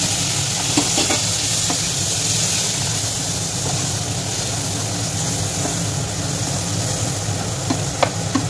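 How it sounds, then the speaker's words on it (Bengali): Chicken pieces stir-fried in a pan for a chicken korma, with a steady close sizzle and scraping stirs throughout, a few sharper clinks of the spatula near the end, and no talking. "এবার ভালোভাবে এটাকে নেড়ে চেড়ে এর মধ্যে চিকেনের পিসগুলো দিয়ে দেবো।"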